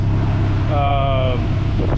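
A running Acura Integra engine, just repaired after a rod knock, heard as a steady continuous low idle rumble close by, with a faint brief tonal whine partway through.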